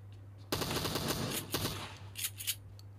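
Gunfire at an enemy in the PUBG Mobile game, with a shotgun named as the weapon: several sharp loud blasts in quick succession, then a few more scattered shots over a low steady hum.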